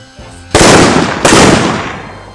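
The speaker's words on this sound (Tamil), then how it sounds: "என்னடா பின்னால வெடிக்குது, அங்கதானடா வச்சேன்." Two sharp, loud firecracker bursts go off close by, the second about a second after the first, each trailing off in a crackling hiss, during a festival fireworks display.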